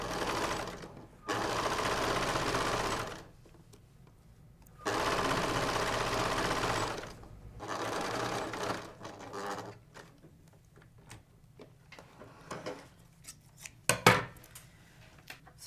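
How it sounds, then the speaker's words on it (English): Sewing machine stitching a zip onto a zip band for an upholstered box cushion cover, running in two long steady bursts with pauses between, then lighter handling clicks and rustles near the end. "I'm going to stitch all the way down the length of the zip."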